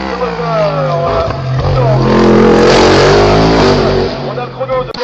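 Norma Elva FC race car at a French hill climb in Dunières, its engine roaring loud and close with sustained revving that swells mid-clip, while a commentator talks over it throughout.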